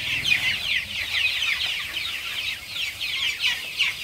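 Chickens raised for the Tet holiday cluck and chatter continuously in a backyard coop, a busy overlapping flock sound at moderate distance with no one talking.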